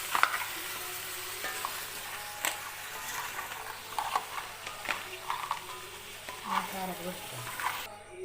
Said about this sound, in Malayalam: തീ കുറച്ചിട്ട് ഇളക്കാം കേട്ടോ.